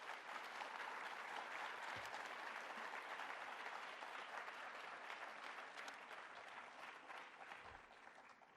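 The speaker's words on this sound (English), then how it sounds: "Let's give them all a round of applause." Steady applause from a high school audience at a senior awards ceremony for graduating students, a dense, even wash of many hands clapping that fades slightly toward the end, faint and distant, with no talk.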